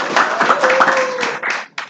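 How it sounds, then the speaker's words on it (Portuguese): A crowd at a franchise convention applauds a business partner, with dense close clapping through most of the moment that briefly drops away near the end and then resumes. "uma salva de palmas para o meu sócio Pana"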